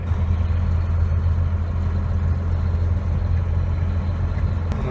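A Volvo truck with an I-Shift automated manual transmission rumbles along, its engine holding a steady low drone with continuous road and cab noise and no clear gear change.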